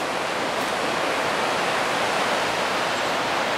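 Water rushes through New Mill Sluice on the River Wensum in Norwich, a dense, steady roar of falling water heard up close with no pauses.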